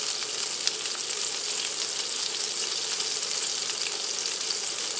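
A hamburger patty sizzles in a pan on an induction cooktop, a steady close frying hiss that stays even throughout with no voices.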